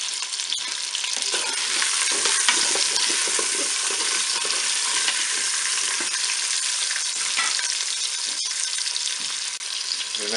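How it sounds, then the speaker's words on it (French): Onion pieces fry in a Cookeo multicooker pot with a steady, close sizzle that holds loud and even throughout, broken by a few light scrapes of stirring. "je vais ajouter mes morceaux d'oignon"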